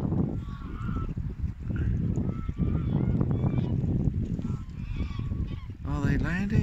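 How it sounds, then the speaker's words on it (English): Geese honking loudly as they land at Draycote Water reservoir in Warwickshire, a continuous chorus of close calls with a burst of flapping and splashing near the end, and voices chatting quietly underneath. "So, the geese have landed."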